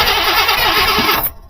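A 1974 Buick Riviera 455 V8 cranks hard and fails to catch, a loud, close starter churn with rhythmic pulsing that cuts off abruptly.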